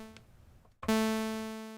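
A single synth note with zero sustain and a 436 ms decay, preceded by a faint earlier note, gives a clear tonal pitch that fades steadily over about a second.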